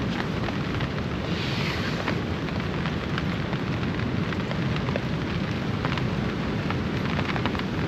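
Heavy rain and strong wind batter a tarp shelter at a camp during a storm, a dense constant roar of drumming drops and gusts filling the whole stretch without a break.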